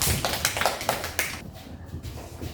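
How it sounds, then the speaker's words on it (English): A class gives a student a round of applause in a classroom, a few scattered claps mixed with faint background chatter, brief and fairly quiet. "Give JL a clap."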